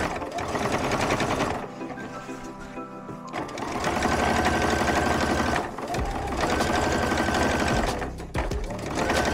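A sewing machine topstitches a denim jeans seam, its fast, steady needle chatter running loud and close with a brief slowdown early on and short pauses between runs.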